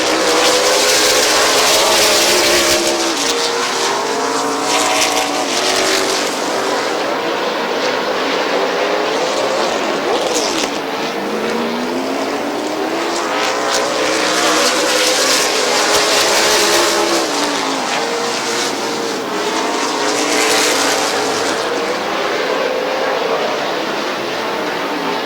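Race cars at Midvale Speedway during the 2019 Fall Classic, a loud continuous roar of engines whose pitch swells and falls as the pack laps past.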